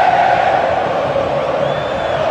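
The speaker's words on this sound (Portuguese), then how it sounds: "Torcida do Flamengo fazendo uma grande festa, gente." Flamengo supporters roar in a packed Maracanã stadium, a loud continuous wall of crowd cheering and chanting heard from within the stands.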